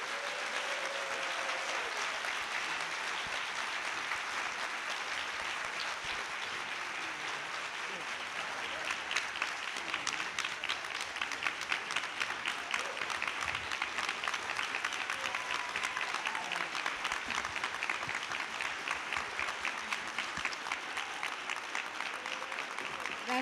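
A seated audience gives a panel discussion a round of applause, a broad, continuous patter of many hands that stays fairly distant and moderate throughout, gaining a few sharper, closer claps partway through.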